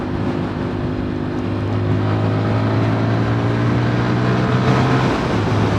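A 2022 MASH X-Ride 125 motorcycle being ridden, its small single-cylinder engine droning steadily and loudly at a constant pace, with wind rush over it and no talking.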